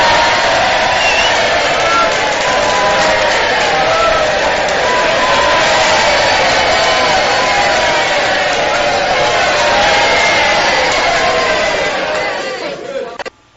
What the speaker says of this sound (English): let me throw out an applause for Brad.